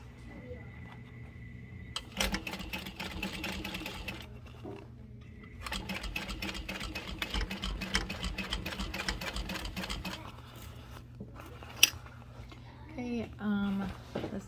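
A sewing machine top stitches fabric along the gusset side of a Gaia bag, running in bursts of rapid mechanical stitching with pauses between them, with quiet talking in the background.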